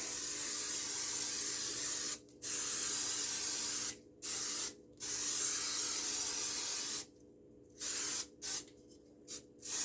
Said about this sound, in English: I'm going to use coconut oil, shake it well, and now I'm going to spray